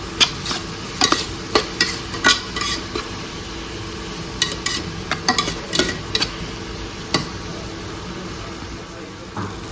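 Sliced onions with salt fry in oil while a spatula stirs them, sharp irregular scrapes and clacks against the pan over a low sizzle, close and with no talk.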